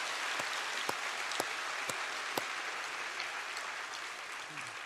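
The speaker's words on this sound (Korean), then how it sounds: "우리 아이들이 나왔는데 박수로 한번 격려하였습니다" A church congregation at an early-morning Passion Week special prayer service applauds the children attending, a steady, fairly faint wash of clapping with a few sharper claps standing out.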